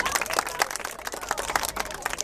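Scattered clapping from a small group of people, broadband and fairly near, sustained for a couple of seconds with loose uneven rhythm and faint background voices.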